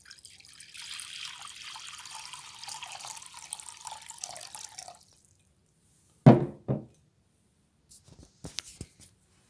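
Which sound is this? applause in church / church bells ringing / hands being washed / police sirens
hands being washed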